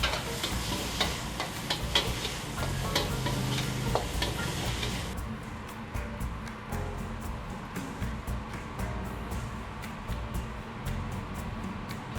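Rice being stir-fried in fat rendered from dry-aged beef, with a steady sizzle and repeated scraping and tapping of a spatula at close range, the clatter thinning out partway through while the frying continues.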